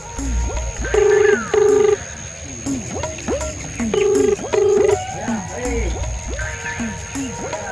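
A telephone rings in repeated paired bursts over a steady chorus of croaking frogs, with a voice talking in the background.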